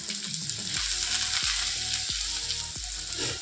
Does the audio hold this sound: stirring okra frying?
yes